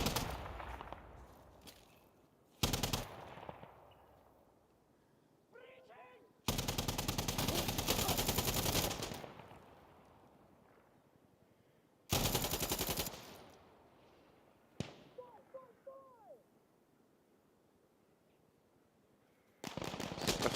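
Gunfire in the video game Insurgency: Sandstorm, several long bursts of loud automatic fire separated by quieter stretches with faint distant shots, with a few brief single shots in between.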